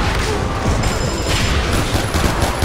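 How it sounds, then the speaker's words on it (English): Rapid bursts of gunfire fill a Far Cry 4 firefight, loud, dense and continuous, with overlapping shots and no voices. "Who is shooting me from here?"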